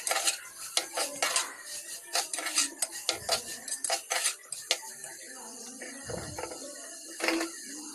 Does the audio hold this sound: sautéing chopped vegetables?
yes